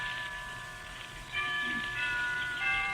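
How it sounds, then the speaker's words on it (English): Church bells chime in a radio drama, overlapping tones ringing steadily against a hissing, rain-like background, moderately loud with no voices. "Why don't we both just sit here and listen to the chimes for a while?"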